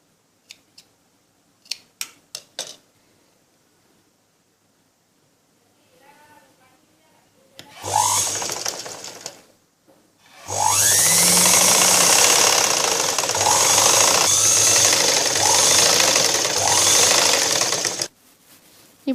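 A sewing machine stitches a thin side edge onto the belt piece of a blouse, its motor running loud and continuous for several seconds after a short earlier burst, with a voice talking before it starts.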